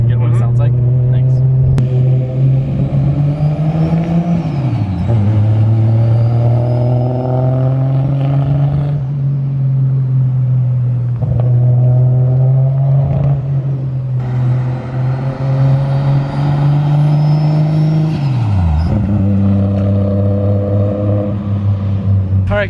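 An RB26-swapped Nissan R33 Skyline rolls by close and loud, its engine a deep, steady drone that climbs in pitch as the throttle opens twice, once early and once near the end.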